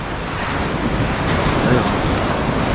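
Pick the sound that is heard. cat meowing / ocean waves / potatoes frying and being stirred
ocean waves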